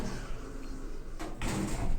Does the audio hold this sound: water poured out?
no